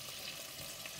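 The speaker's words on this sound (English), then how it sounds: "And we will just let this start frying a little bit" Fish fries in oil in a home kitchen pan, giving a steady, dense, close sizzle with no talking over it.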